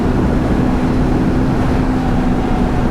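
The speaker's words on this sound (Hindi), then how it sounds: "अभी स्ट्रेच में खींच के दिखाता हूँ आपको, फुल थ्रॉटल खींच रखा है" A Royal Enfield Himalayan 450 or Triumph Scrambler 400X adventure motorcycle held at full throttle on an open stretch, giving a loud, steady engine drone with constant wind rush and no break for the whole few seconds.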